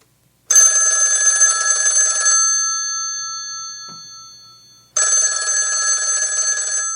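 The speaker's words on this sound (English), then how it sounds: "the ringing of that phone bell brings you mystery, adventure." A telephone bell rings loudly in two long bursts separated by a pause of near silence, bright and metallic, opening a live old-time radio mystery show.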